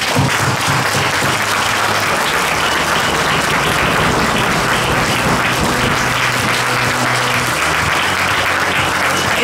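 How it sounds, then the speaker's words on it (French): Thunderous audience applause at the AGD 2023 cosplay contest, a loud, dense wash of clapping held steadily for the whole stretch with no talk over it. "je voudrais que vous fassiez un tonnerre d'applaudissements"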